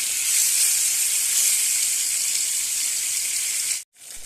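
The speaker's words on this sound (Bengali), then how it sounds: "তেলটা গরম হয়ে গেছে, এখানে 2 পিস মাছ দিয়ে নেব" Two pieces of fish coated in salt and turmeric frying in hot oil give off a steady, loud, close sizzling hiss that holds evenly before cutting out abruptly near the end.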